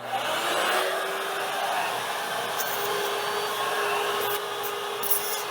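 A shop vacuum sucks water from the body drains of a Mazda Miata RF through a long hose in a garage, giving a steady, fairly loud broadband roar with a faint low hum and a few brief hissing gurgles.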